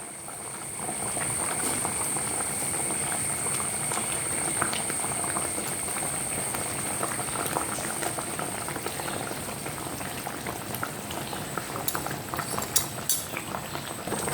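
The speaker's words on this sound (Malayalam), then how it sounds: "എല്ലാം കൂടെ ഒന്ന് തിളയ്ക്കട്ടെ." A pot of brinjal curry with tamarind water boils steadily at close range, with a constant bubbling, gurgling simmer and a few faint clinks now and then.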